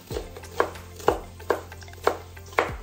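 Collard greens being chopped with a knife on a cutting board in a home kitchen, six crisp, evenly spaced chops about half a second apart, close and clear over a low background hum.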